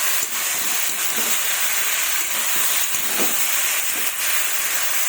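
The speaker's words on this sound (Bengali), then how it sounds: "সেদ্ধ করার জন্য একটু জল দিলাম।" Water poured into a hot pan of fish curry with cauliflower, producing a loud, sustained steamy hiss with faint bubbling and a few soft knocks, close and steady throughout with no speech.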